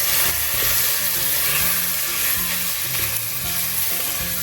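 Rice and meat frying in a pot for a simple rice soup, sizzling loudly and steadily with the scrape and clatter of stirring throughout.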